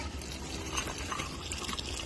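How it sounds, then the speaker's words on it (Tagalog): Water pours steadily into a cooking pot of crushed kamias while making dinuguan, a soft continuous splashing trickle heard close and alone for about two seconds. "Tapos lalagyan ko siyang tubig."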